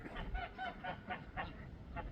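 Farm ducks and other barnyard fowl near spilled duck feed honk repeatedly in a steady, evenly spaced series of nasal calls, moderately distant and fairly quiet.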